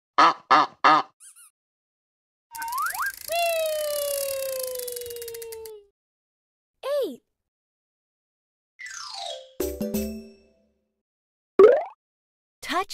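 A cartoon goose in an animated children's phonics and counting lesson gives several short, nasal honks, separated by gaps and mixed with synthetic sliding tones and effect sounds.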